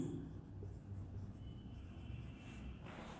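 A word is written on a classroom board during a chemistry lesson on redox reactions, the faint, steady scratching continuing for about three seconds over low room noise.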